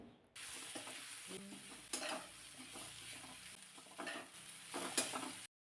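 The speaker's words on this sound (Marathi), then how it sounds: "गॅसची फ्लेम मात्र कमी ठेवायची आणि चांगले 3-4 मिनिट तरी याचा कच्चा स्मेल जाईपर्यंत हे आपल्याला परतून घ्यायचे." Green pea paste sautéed over a low flame in a pan, giving a soft continuous sizzle with scraping stir strokes throughout, fairly quiet and close, with no talking.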